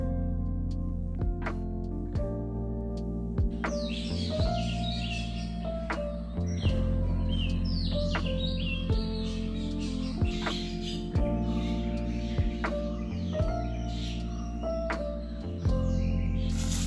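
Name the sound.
birds chirping in the morning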